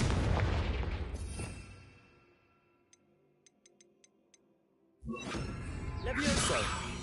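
A Confringo fire spell from Hogwarts Legacy on PS5 bursts with a loud, booming blast that fades into quiet with a few faint ticks, before a second heavy explosion crashes in and rumbles on.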